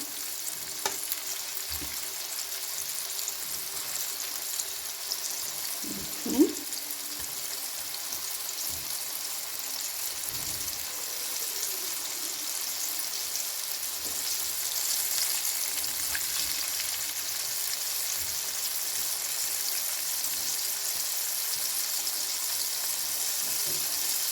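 KFC-style chicken popcorn fries in oil on a medium flame, giving a long, even, steady sizzle, with an occasional faint utensil knock.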